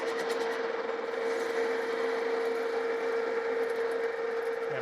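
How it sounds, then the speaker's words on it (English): Steady lathe facing cut across a metal gear arbor, a continuous close grinding whir with a sustained tonal hum, even in level from start to finish and with no speech. "I'm going to face this."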